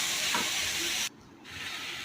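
Onions sautéing in a pan until golden brown for a Tamil seafood dish give a steady close hiss and sizzle that cuts out briefly and then returns a little quieter.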